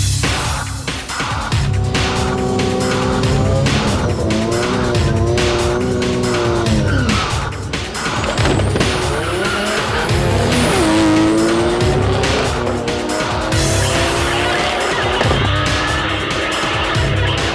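A Nissan Skyline R32 GTR, a rear-wheel-drive drag car on Mickey Thompson street radials, roars through a full drag racing pass, engine screaming loud and continuous with rising revs, gear changes and tire squeal throughout.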